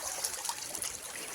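River water flowing in a steady, faint trickling wash, with no voices present.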